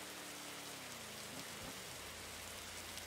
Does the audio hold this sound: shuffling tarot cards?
no